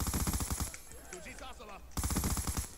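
Rapid automatic gunfire from a Call of Duty Black Ops 2 multiplayer match on Xbox 360, loud bursts of shots at the start and again near the end, with a brief quieter stretch in between.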